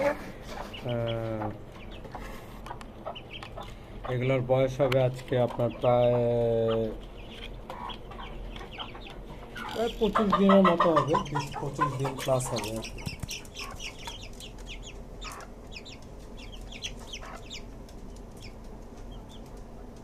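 Young desi chicks, about twenty-five days old, kept in a cage on a rooftop farm, cheep and cluck in loud close bursts, with someone talking over and between the calls.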